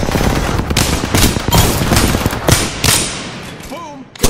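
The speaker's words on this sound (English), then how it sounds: "Firing." Automatic weapon fire in Apex Legends gameplay, rapid bursts of shots with thuds mixed into a loud, busy battle soundscape, with brief game effects near the end.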